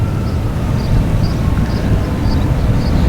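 Emirates airliner at Boston Logan Airport, a loud, steady engine roar and rumble heard from a distance, continuous throughout with no talking.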